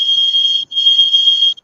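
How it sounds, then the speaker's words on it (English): A building fire alarm sounds during a scheduled test, a loud, steady high-pitched electronic tone that runs continuously with two brief breaks, heard alone with no talking. "Is that a fire alarm?"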